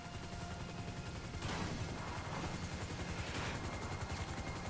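A nearly wrecked helicopter comes in to land in the GTA video game: a steady, loud rotor roar under dense broadband noise that swells after the first second and holds to the end, with no talk.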